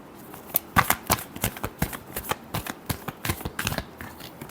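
Tarot cards are shuffled in a quick run of crisp riffling snaps and flutters, close and fairly loud, with a slight pause partway through before the shuffling continues.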